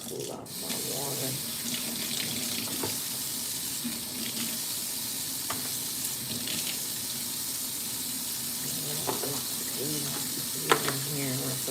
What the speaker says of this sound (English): Rinse off my chicken.